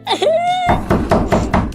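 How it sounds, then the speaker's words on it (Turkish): Knocking on a door in the Minecraft video game: a short voiced sound comes first, then four or five evenly spaced, fairly loud knocks follow in a steady rhythm. "Kim çalıyor lan kapıyı?"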